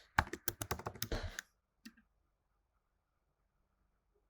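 A password being typed on a computer keyboard, close and clear, with a quick run of about a dozen key clicks followed by a couple of soft isolated taps and then silence.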